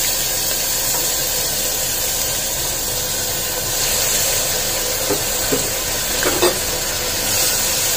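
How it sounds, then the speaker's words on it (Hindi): Spices roasting in a pan on low gas for a dried semal (silk-cotton) vegetable curry, giving a steady soft sizzle and hiss throughout with a few light scraping stirs near the end. "मसाले को हमें अच्छे से भून लेना है।"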